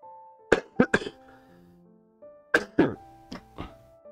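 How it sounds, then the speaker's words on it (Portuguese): A sick man coughs in two bursts of short, harsh coughs and throat clearing, close and dry, with quiet pauses between. "Pera, tô tossindo."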